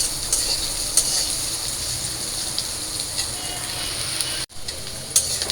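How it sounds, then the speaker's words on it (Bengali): Steamed stems and potatoes fry in a pan with a steady sizzle, occasional stirring scrapes and clinks, and a brief dropout near the end. "তো আমার ডাঁটা আলুটা ভাজা হয়ে গেছে"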